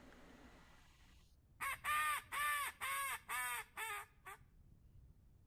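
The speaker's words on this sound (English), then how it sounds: "I heard ducks, and this does happen here." Several loud, harsh calls from birds identified as ducks near a pond, six quick raspy bursts in a row close by, then an outdoor quiet with no talking.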